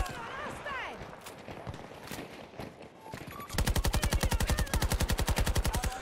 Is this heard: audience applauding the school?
no